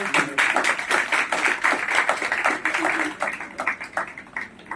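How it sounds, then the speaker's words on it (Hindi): An audience applauds at a Mother's Day foundation ceremony with dense, steady clapping that carries on throughout, fairly close and even in loudness, easing slightly near the end. "इनके लिए आप एक बार सबसे पहले इतने जोर से तालियां बजाओ"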